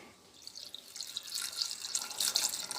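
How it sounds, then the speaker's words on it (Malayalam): Water pours from a tap into a pressure cooker holding jackfruit seeds, a steady close hiss and splash that builds in strength over a few seconds, with no voices. "ഇട്ട് പിന്നെ ആവശ്യമായ വെള്ളം ചേർത്ത് കൊടുക്കാമേ"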